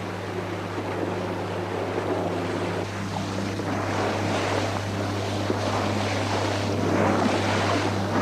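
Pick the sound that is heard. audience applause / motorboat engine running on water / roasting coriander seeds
motorboat engine running on water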